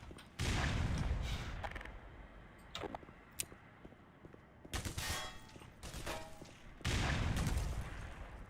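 A grenade blows up in the player's hand in a video game, among loud bursts of game gunfire and explosion noise, with sharp clicks and quieter gaps between three heavy blasts.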